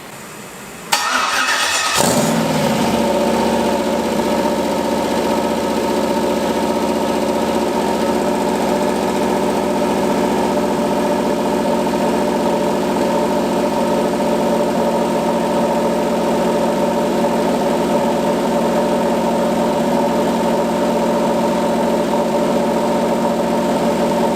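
A Ford Mustang fitted with an LS engine cranks briefly, fires and settles into a steady, loud idle that runs without break to the end, with no talking.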